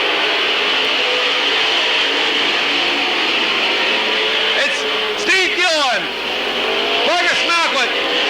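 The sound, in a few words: race cars racing at Midvale Speedway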